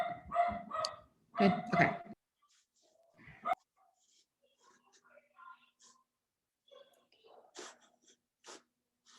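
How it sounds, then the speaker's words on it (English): A dog barks in a few loud, close bursts at the start. Quieter rustles and a brief spoken remark follow in an otherwise quiet room. "I think Christine's dog was barking."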